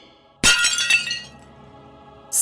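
A sharp crash of plates smashed against stone rings out, fading into a ringing, tinkling tail, then another smash begins at the very end.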